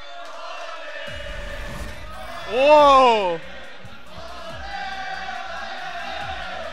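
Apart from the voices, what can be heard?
esports tournament crowd chanting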